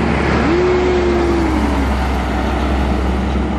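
An odong car, a novelty tourist vehicle, passes along a roadside amid steady traffic rumble, with a horn-like tone briefly sounding early on before the engine drone continues alone.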